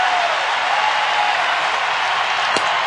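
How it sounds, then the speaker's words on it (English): Baseball stadium crowd roaring steadily at a Chicago White Sox at Detroit Tigers game during a tense 2-2 count, a broad continuous wash of cheering with no break, loud and distant across the ballpark. "Crowd making some noise now with a 2-2 count."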